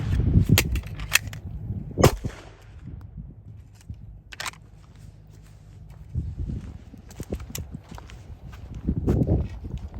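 Handgun shots ring out during a beginner shooting drill outdoors: several sharp cracks at irregular intervals, with quieter shuffling and handling sounds between them and no talk.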